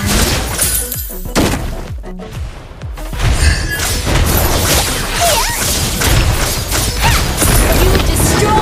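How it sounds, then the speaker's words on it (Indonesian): A turret is destroyed in the Mobile Legends game, loud crashing and shattering impacts with booms over dense battle sounds and game music. "You destroyed a turret!"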